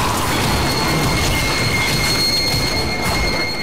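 A train rushes past in the video game The Darkness II, a loud continuous rumble of wheels on rails with sustained metallic squealing tones throughout.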